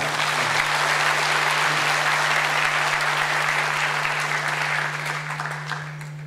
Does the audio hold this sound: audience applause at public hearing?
yes